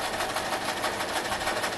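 A sewing machine runs fast and steady, stitching down a fabric seam with an even, buzzing whir throughout, close up and alone.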